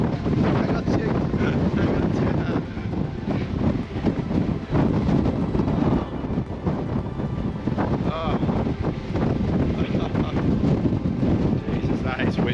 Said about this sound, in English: Oh, it's so windy up here